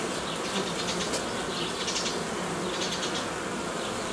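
Honey bees swarm around their hive with a dense, steady buzzing that fills the scene, with no voices over it.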